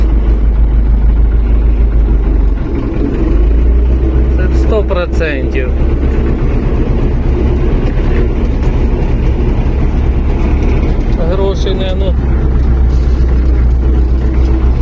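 A hay baler works in a field, its steady low mechanical drone running the whole time with a few sharp knocking bursts, while people talk over it.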